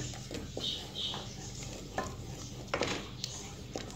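A spatula stirs a masala of ground tomatoes and chillies in a pan. Soft scrapes and a few sharp clinks sit over a low, fairly quiet sizzle, without speech.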